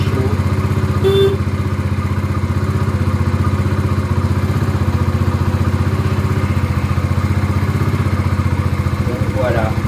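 A warm motorcycle engine idles steadily close by, a low, even rumble with a light mechanical clatter that holds throughout with no revving.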